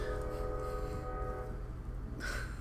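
A loud train rumbles steadily past in a Minecraft world, a deep continuous roar with faint tonal hum that holds throughout, then a brighter hiss swells near the end.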